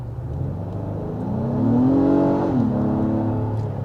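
A 2022 Acura MDX engine in sport mode revs up steadily, its tone climbing and swelling to a peak near the middle before easing back to a lower, sustained drone, with no talk over it.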